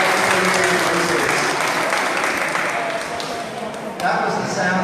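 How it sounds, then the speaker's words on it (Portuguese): An event audience applauds in a loud, sustained wash of clapping that fills the space, with voices mixed in beneath it. "That was the sound of God clapping for you."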